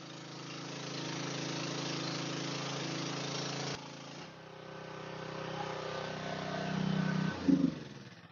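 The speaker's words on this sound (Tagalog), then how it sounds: "Galit na galit talaga yung ating generator kapag naka-high ampere settings." Small portable generator on its high ampere setting, a steady loud engine drone with a brief dip midway, then swelling and surging louder near the end before settling.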